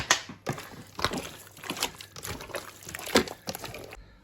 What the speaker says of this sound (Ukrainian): беремо айран, заливаємо. Перемішуємо.